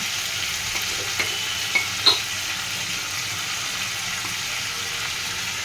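Nigella seeds and green chillies sizzle in hot oil for a tempering, a steady close hiss broken by a few small pops near the start.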